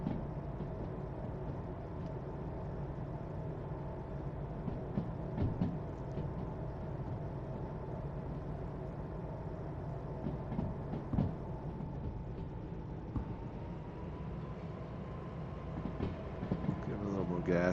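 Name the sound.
locomotive running with dynamic brake in Derail Valley video game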